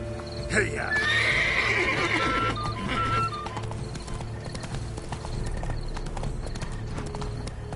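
Horse in The Witcher video game: a sharp neigh and whinny over clip-clopping hooves, with a voice speaking partway through.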